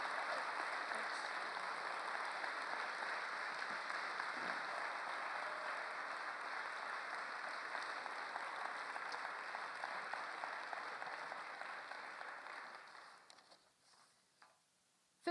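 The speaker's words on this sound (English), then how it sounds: "Can I get a huge round of applause for Phil?" Audience applause for a guest at a church service, a broad steady clatter of many hands that holds for about thirteen seconds, then quickly thins and fades to near silence.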